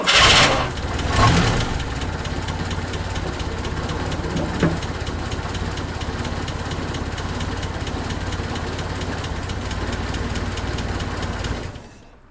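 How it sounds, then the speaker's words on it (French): A Peugeot J9 van engine starts with a loud burst, then settles into a steady, rough idle that runs evenly for several seconds before cutting off near the end. "On va voir si en laissant le moteur au ralenti"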